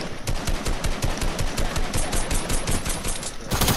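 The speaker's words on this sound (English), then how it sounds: "these SMGs are so overpowered" Rapid SMG fire from the video game Fortnite rattles on almost without pause in dense, loud bursts for several seconds, with a brief break near the end before firing resumes.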